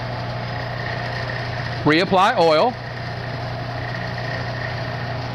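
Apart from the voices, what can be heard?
drill press running, drilling aluminum with quarter inch drill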